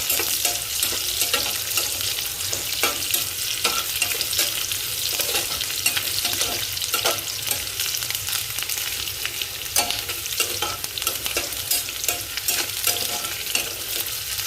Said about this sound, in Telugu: ఉల్లిపాయ అయితే బాగా వేగుతుంది